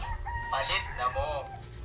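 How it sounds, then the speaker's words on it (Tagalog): A rooster crows once, a drawn-out call rising and falling over faint background noise, fairly near. "Ayan po ang aking manok nakikinig lang po ang aking manok."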